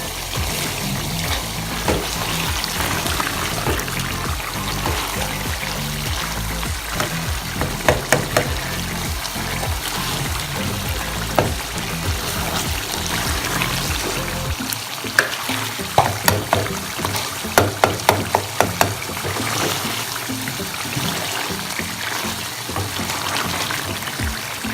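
Chicken karahi with tomatoes sizzling and being stirred in a pan, a steady loud frying hiss throughout with occasional scraping and clinking of the spoon against the pan.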